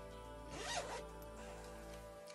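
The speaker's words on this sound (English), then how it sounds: "A little project bag. I've got a black zip." A black zip on a small handmade felt-lined project bag is run open or closed in one quick, close, quiet pull, with no voices.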